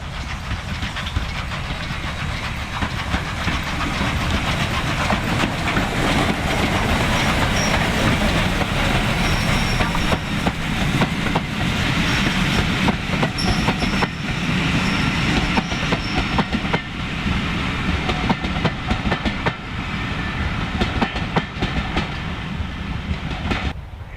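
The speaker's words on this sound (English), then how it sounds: "A quick hop, skip and a jump to Ramsbottom and a southbound Ginty." A southbound steam train runs past at Ramsbottom on a heritage railway, giving a loud, continuous rumble with rhythmic clickety-clack of wheels and some squealing, close by and sustained for the whole passage.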